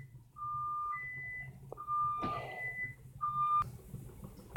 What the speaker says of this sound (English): My alarm randomly started going off.